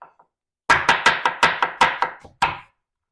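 A knife chops an onion on a cutting board for chili, about eight sharp, evenly spaced thwacks in quick succession followed by one final chop, close and distinct with no talk.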